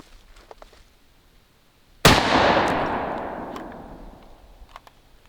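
A Mosin Nagant rifle fired into a pile of dirt outdoors: one loud, close, sharp crack followed by a long rolling echo that slowly fades over several seconds.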